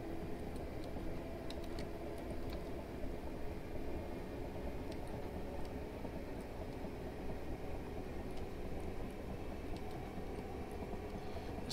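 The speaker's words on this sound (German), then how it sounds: "Das ist ein Zug von einer anderen Gesellschaft" AI train from another company rolling past in Train Simulator 2019 on the Portsmouth Direct Line, a steady dense rumble of wheels and carriages that holds throughout, with no voices.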